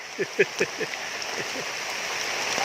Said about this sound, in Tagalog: ngayon balik na naman sa ulan